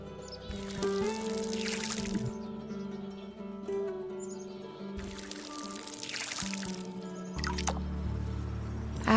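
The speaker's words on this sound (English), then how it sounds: "Then I watered the beet seeds." Water pouring onto beet seeds in a garden plot in Fractured Blooms, two bursts of splashing, trickling liquid over a soft background hum, with a faint third pour at the end.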